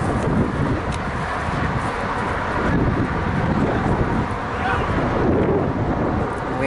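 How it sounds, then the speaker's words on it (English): Wind buffets the microphone at an outdoor amateur football match on a cloudy day, a continuous low roar and rumble lasting throughout, with a commentator talking over it. "It's windy."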